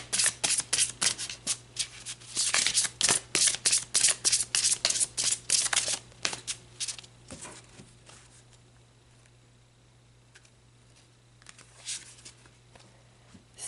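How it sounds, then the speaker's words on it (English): Tarot cards being shuffled, a quick run of riffling card bursts in an even rhythm up close, then a few quieter, scattered card shuffles, with no talk. "All right, let's pull some more cards."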